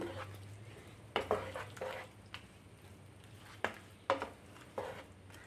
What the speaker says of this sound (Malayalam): നന്നായിട്ട് തന്നെ മിക്സ് ചെയ്ത് കൊടുക്കണം